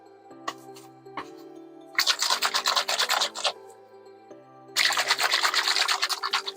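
Spinach salad is tossed and mixed in a bowl, two bursts of close rustling, rubbing leaves over soft background music, each lasting a second or so.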